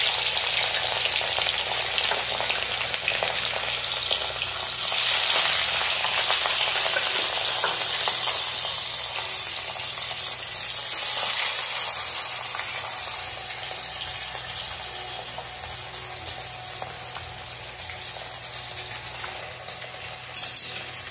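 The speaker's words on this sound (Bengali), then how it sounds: "দেখো এইগুলো কাতলা মাছ, এগুলোই এখন ভাজবো।" Pieces of catla fish fry in hot oil in a wok, giving a loud, steady broadband sizzle that runs unbroken for about twenty seconds and eases slightly toward the end, with faint stirring underneath and no talking.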